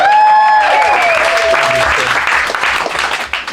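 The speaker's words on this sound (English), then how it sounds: "Give a round of applause to the MC Danny O'Brien, ladies and gentlemen." Loud, close comedy club audience applause filling the room, with cheering voices at the start and a rhythmic beat of music underneath.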